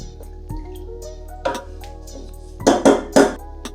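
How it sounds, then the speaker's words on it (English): A spoon clinks against a glass while butter-washed bourbon is stirred, giving a few scattered taps and then a quick cluster of brighter clinks near the end, close and fairly quiet. "Now we'll give it a nice stir to make sure it's all mixed in properly."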